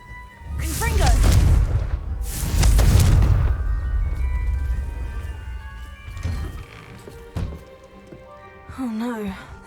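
A Confringo blasting spell from Hogwarts Legacy erupts in two heavy booming explosions early on, each with a broad crashing roar, followed by rumbling debris and scattered impacts, with a voice chiming in near the end.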